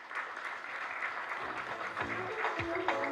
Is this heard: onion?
no